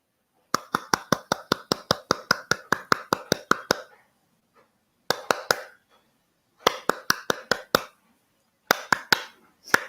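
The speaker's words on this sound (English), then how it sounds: "we are going to clap. And the minute I stop clapping, you also have to stop clapping." A group claps in unison in crisp, evenly spaced bursts, starting and stopping together in several runs separated by silence, close and fairly loud.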